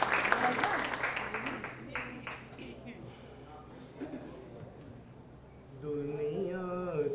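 Seniors at a laughter session clap for someone. The clapping is loud at first and gradually fades, then a voice starts up near the end.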